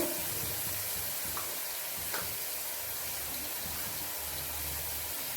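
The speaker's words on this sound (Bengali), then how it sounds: "মশলাটা কিছুক্ষণ লাল লাল করে ভেজে নেব" Spice masala frying in a pan for a tangra fish curry, a dense and constant sizzle held at an even level throughout, with no voices heard.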